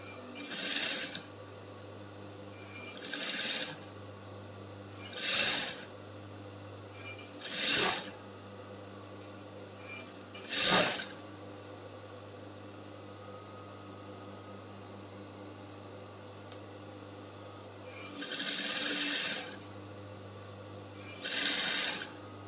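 A sewing machine stitches a flounce bustier in about seven separate short bursts, each one a second or two long, with a steady low hum running between them.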